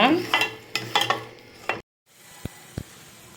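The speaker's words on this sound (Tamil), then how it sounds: "தக்காளியை சேர்த்து நல்லா வதக்கிக்கோங்க" Tomatoes sautéing in a pan for an egg curry: quick stirring scrapes over a sizzle for under two seconds, then a brief silence and two sharp clicks of a utensil.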